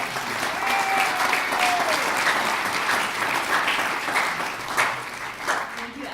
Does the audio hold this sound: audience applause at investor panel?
yes